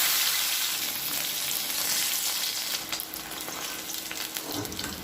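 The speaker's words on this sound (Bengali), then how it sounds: "বাকি যে মাছগুলো আছে সেইগুলো আমি সেম প্রসেসে লাল লাল করে একটু ভেজে নেব" Parshe fish fillets frying in hot oil in a wok, a steady dense sizzle that stays loud and close throughout with a slight dip partway, no voices.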